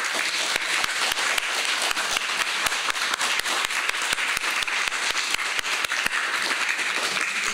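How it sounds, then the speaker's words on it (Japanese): An audience applauds steadily to welcome director Masao Adachi to a post-screening talk for the film REVOLUTION+1, a dense, even wash of many hands clapping with sharp individual claps standing out, lasting throughout without voices. "どうぞ拍手でお迎えください。"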